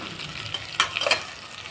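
Eggplant frying in a pan for a green-chili eggplant dish, a short burst of sizzling with a couple of brighter stirring scrapes near the middle.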